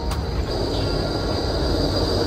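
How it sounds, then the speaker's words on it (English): A Melbourne train arrives with a loud, close rumble and a sustained high metallic wheel squeal riding over it for the whole moment. "Now I'm about to get on my first train. The first train in Melbourne."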